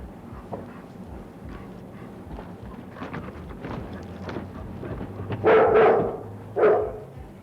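Alsatian guard dogs kept for Barclays Bank security bark twice, loud and close, near the end after quieter scuffling and background noise.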